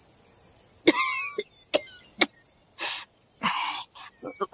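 Several sharp, harsh coughs, bringing up blood, in separate bursts, close and loud, with a steady high insect chirping running beneath them throughout.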